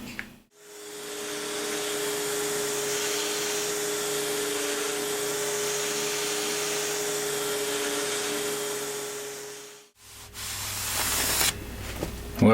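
An orbital sander working wood with 320-grit paper, a steady loud whirring hum with a constant motor tone running about nine seconds, stopping, then restarting with rougher scraping.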